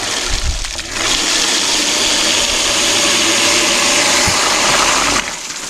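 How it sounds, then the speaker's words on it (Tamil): A restored 1 hp open-well motor pump runs steadily, pushing a constant loud rush of splashing water for several seconds before it cuts out, with a low mechanical hum underneath. "ஒரு செகண்டில் பார்த்தீங்கன்னா எல்லா தண்ணியும் மோந்து ஊற்றிடுச்சு இடியில்"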